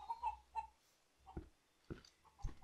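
Chickens on a roof in a survival video game cluck in short, separate bursts, several distinct clucks spaced across the stretch, fairly faint and close with quiet gaps between.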